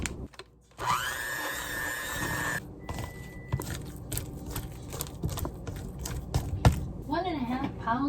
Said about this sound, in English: I'm gonna use the mixer to cream them together.